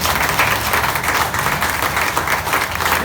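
An audience applauds steadily at a training session, a dense, loud wash of clapping filling the whole clip with no talk over it.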